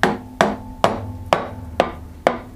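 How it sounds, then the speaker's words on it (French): Six evenly spaced, sharp hammer taps on a stuck motorcycle clutch cover, each a close, loud metallic knock ringing briefly before the next, with no talking. "Soit vous prenez l'embout d'un marteau et faites attention à pas casser sur, enfin tapez pas sur des arêtes, tapez sur des endroits plats ou arrondis"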